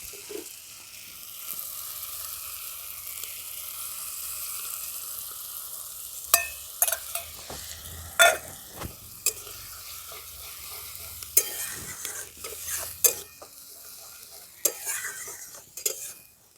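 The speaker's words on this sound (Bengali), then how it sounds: "এটা একটু ধুয়ে আর আমি জলটা দিয়ে দিচ্ছি এর মধ্যে।" Water is poured into a chickpea curry in a pan, and a low sizzle runs underneath as a spoon stirs with repeated sharp clinks and scrapes against the metal, growing busier in the second half.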